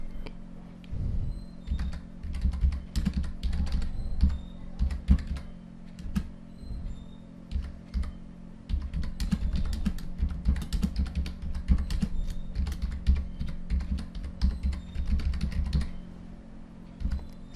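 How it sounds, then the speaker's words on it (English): Steady typing on a computer keyboard, a sentence tapped out in dense bursts of key clicks with a short pause near the middle, close and fairly loud with no talking. "let me type the full sentence here"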